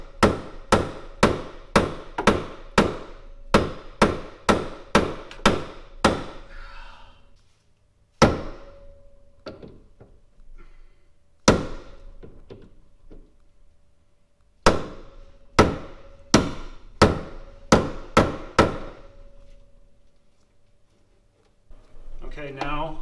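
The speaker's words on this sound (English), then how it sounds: "I will take the old bearing, set it on top, and just start hitting that with a big hammer." Heavy blows from a big hammer drive a new rear wheel bearing into the hub of a Datsun 240Z/260Z/280Z, sharp metallic strikes in fast bursts of ten or so, then single hits, each ringing briefly, alone and close.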